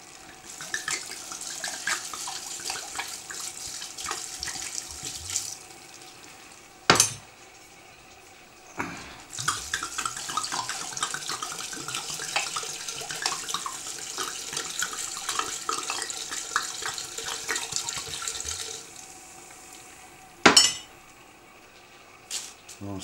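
A litre of Italian red wine pours into a pan alongside pancetta for a large batch of 70 portions: a steady splashing, gurgling stream, broken by a couple of brief sharp clanks.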